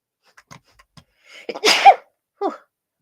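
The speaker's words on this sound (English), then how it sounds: "Sneeze coming up" One close, loud human sneeze bursts out after a few soft breathy sniffs and inhalations, then a brief trailing exhale, with no speech around it.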